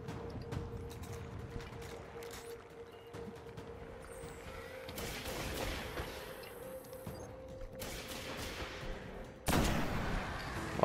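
Gunfire in the Destiny video game on PS4: bursts of shots in a firefight, with scattered crackling reports over a steady hum and a sharp louder blast near the end.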